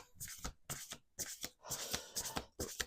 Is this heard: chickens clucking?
no